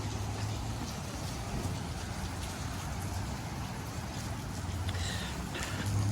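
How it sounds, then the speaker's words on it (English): Rain pours steadily during a nor'easter storm in Massachusetts, a continuous broadband hiss of drops striking surfaces outdoors with a low rumble underneath, no voices. "I'm just gonna go out here in the rain"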